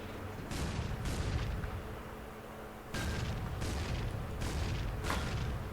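APC Puma autocannon firing shells in a video game vehicle mod, a few heavy booming shots spaced a second or two apart with lingering rumble, close and loud.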